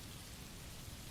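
Steady rain pours down during a storm, a dense, even hiss of drops on surfaces with no breaks, filling the whole stretch at a moderate, close level.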